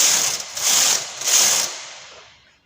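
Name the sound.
knitting machine knitting with punch card pattern selection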